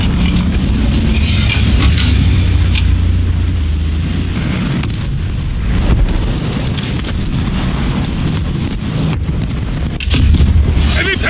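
Tank kill explosions in the War Thunder game with a Panther F, deep booming blasts and rumbling impacts repeating over several seconds, loud and heavy.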